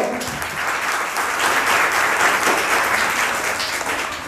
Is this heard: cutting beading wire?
no